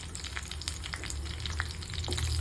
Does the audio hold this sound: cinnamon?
yes